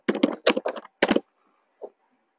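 Several bursts of keyboard typing entered into a spreadsheet, fairly loud and close, with a short pause and one faint final tap.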